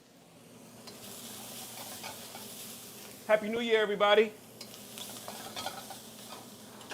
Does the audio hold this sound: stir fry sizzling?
yes